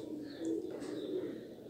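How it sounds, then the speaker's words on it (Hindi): A favorite pet Teddy pigeon coos nearby, soft low throaty notes repeating over a quiet background. "ये मोस्ट फेवरेट कबूतर है"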